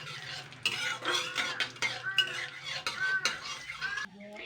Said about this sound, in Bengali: এবার আমি এটাকে দিয়ে দিচ্ছি গরম তেলে।